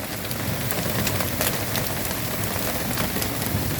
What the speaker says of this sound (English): This little tiny hail though.